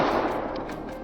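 A brief, loud burst of rapid gunfire aimed at a feral hog on an Arizona farm, dense crackling shots close by with no talking.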